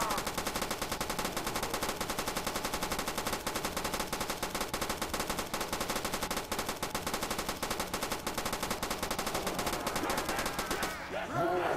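Sustained rapid machine gun fire from an infinite-ammo weapon in the video game Call of Duty: World at War, loud and continuous for nearly the whole stretch before cutting off abruptly near the end.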